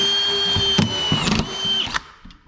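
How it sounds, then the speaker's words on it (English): A DeWalt brushless collated screwdriver drives a screw through plasterboard into a stud, giving a short high motor whine broken by a few sharp clicks as the screw seats, then stopping. "So I am just going to pull the trigger and drive the screw in."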